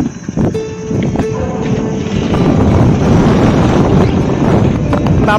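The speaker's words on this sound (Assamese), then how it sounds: "বাপৰে বতাহটো" Strong wind blows across a microphone outdoors on a cold day, making a loud, continuous buffeting rumble that never lets up.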